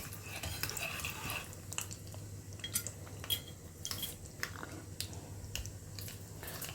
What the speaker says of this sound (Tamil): கடுகு நல்லா பொரிய ஆரம்பிச்சிடுத்து